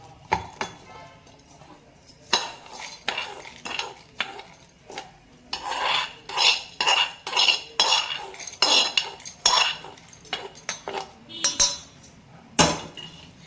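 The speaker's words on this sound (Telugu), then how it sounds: "ఇప్పుడు ఈ పోపుని మనం ఈ మిక్సీ జార్లోకి తీసేసుకుందాం" Fried tempering for Andhra gongura pickle scraped from a pan into a mixer jar: a run of sharp metallic spoon clinks and scrapes against the vessels, uneven bursts close up, no talking.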